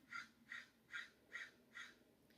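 A crow caws five times in an even, steady rhythm, harsh distant-sounding calls that are faint and heard alone over a quiet background.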